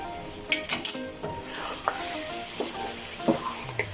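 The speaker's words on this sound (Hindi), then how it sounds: "थोड़ा सा हरा धनिया ये डाल के इसको एक दफा हम भून लेंगे लास्ट" Lahori mutton karahi fries with fresh green coriander, a close steady sizzle broken by repeated metallic scrapes of a spoon against the karahi, louder in the first second then settling into slower stirring.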